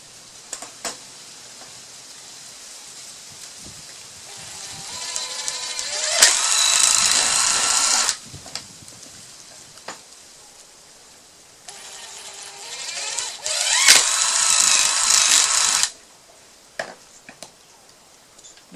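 A power drill reaming out a hole while building a chicken coop composter. It gives two loud whining bursts of about three and four seconds, each spinning up and cutting, with quiet handling noises between them.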